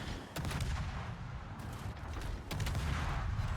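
Naval gunfire from the Harugumo, a Japanese destroyer in World of Warships, booms in a dense, loud barrage of heavy blasts that swells, eases briefly and then surges again.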